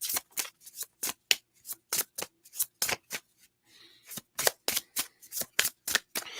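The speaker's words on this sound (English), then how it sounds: "We're going to keep shuffling until we get like a one card that comes out." Tarot cards shuffled in quick riffling bursts, a rapid run of crisp card snaps, a brief pause, then another fast volley, close and clear with no talking.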